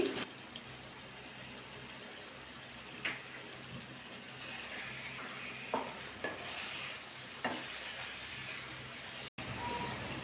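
Masala for chicken chaap fries in a pan, a soft steady sizzle with periodic light scrapes and taps of a spatula stirring it, fairly quiet and without speech.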